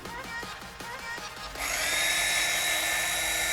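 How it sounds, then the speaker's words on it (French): A few soft clicks of a cutting head being fitted give way to an electric beard trimmer switching on, then a steady high whine running loud and close for the rest. "allumez votre tondeuse"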